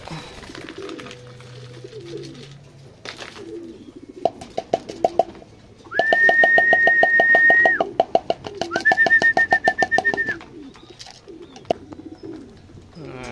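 Soft pigeon coos mixed with sharp rhythmic tapping and a steady electronic beep heard twice, nearby and moderately loud, with no one speaking.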